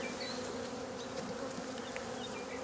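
Bees buzzing near their hive make a steady, close drone from many wings that stays constant throughout.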